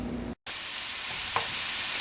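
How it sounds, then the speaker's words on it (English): Vegetables for minestrone soup sauté in a pan with a steady, close, broadband sizzle that runs on alone, with a brief dropout near the start and a small clink partway through. "let the vegetables saute for about 15 minutes, and you'll just turn it every once in a while to make sure they don't burn."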